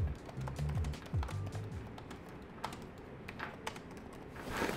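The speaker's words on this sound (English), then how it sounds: "if you're typing away on this keyboard" Rapid, irregular keystrokes on a laptop keyboard, clicking and tapping at a steady, fairly quiet level close by, with no talking.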